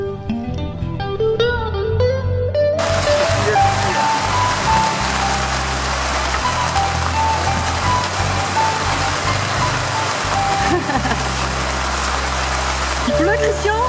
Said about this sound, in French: Il nous arrive souvent de naviguer sous la pluie.